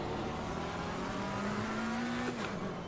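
A race car sweeps past in Assetto Corsa Competizione at Silverstone, its engine tone holding steady then dropping sharply as it goes by, set against a constant loud drone of the player's own car and road noise.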